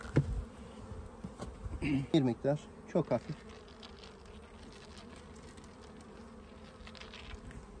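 Honey bees buzz around an opened hive during spring colony splitting, a steady low drone under sparse nearby Turkish speech.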